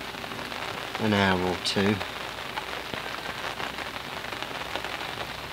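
Steady rain pattering down at a lake during a tench fishing session, a continuous broadband hiss throughout, with someone briefly speaking near the start.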